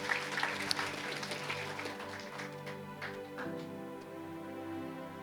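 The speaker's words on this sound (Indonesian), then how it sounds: "Tepuk tangan bagi Tuhan." A church congregation claps for God during a sermon, scattered hands forming quiet applause over a sustained organ or keyboard chord, faint and a little distant, slowly fading.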